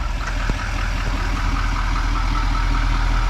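Old truck idling nearby, a steady low rumbling engine drone holding even and loud throughout, with no voices.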